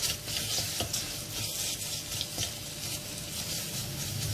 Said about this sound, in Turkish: Bir dakikada salçamızı güzelce kavuralım.